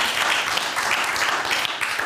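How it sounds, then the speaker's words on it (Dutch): A seated audience at a talk event about decent work gives a warm round of applause, with about two seconds of dense, even clapping and no voices. "geef hem een warm applaus."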